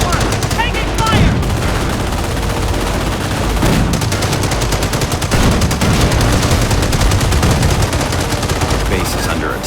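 Heavy gunfire in a Company of Heroes battle at Carentan, continuous rattling machine-gun bursts and rifle shots mixed with explosions, loud and dense throughout, with brief radio-style voices underneath.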